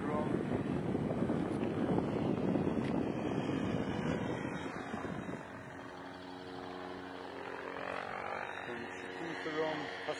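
A Crane Fly RC autogyro's electric motor drones in flight, a steady buzzing whine that fades after a few seconds, leaving rotor and wind noise as the motor is cut. People talk over it.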